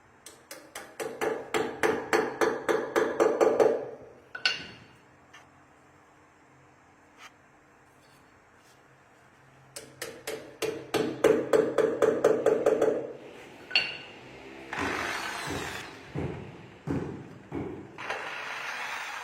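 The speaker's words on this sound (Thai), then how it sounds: "ผมจะประกอบน็อตกับพุกเข้าหากันก่อน ก่อนที่จะตอกครับ" A hammer driving a bolt and 7 mm wall anchor into a drilled hole while installing a sink cabinet: two rapid series of sharp, evenly spaced strikes, close and loud, separated by a quiet gap, then a few scattered heavier knocks.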